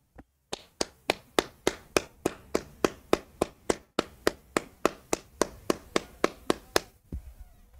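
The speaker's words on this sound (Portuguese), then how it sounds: "Salva de palmas, bater palma aqui, ó." A single person claps hands steadily about two dozen times in a quick, even rhythm, close and sharp, during a live women's football broadcast of Corinthians versus Atlético Mineiro, then stops.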